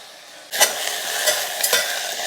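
Fenugreek leaves frying in oil in a pan with ginger-garlic paste just added: a steady close sizzle that jumps louder as ingredients drop in, with a few stirring scrapes and no talking.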